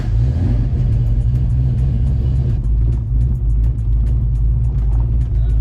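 Ford Fox Body Mustang convertible with a swapped 306 V8 pulling away, a loud deep engine rumble with a steady idle-like throb that rises as it drives off, close by and continuous with no talking.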